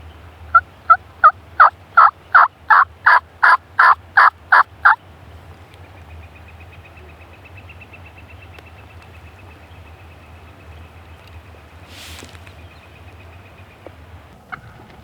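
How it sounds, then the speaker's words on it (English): A wild turkey gobbles in spring woods during an opening-day hunt, a rapid rattling burst of about ten loud pulses over five seconds, followed by quiet outdoor ambience with faint distant bird calls. "That's a turkey."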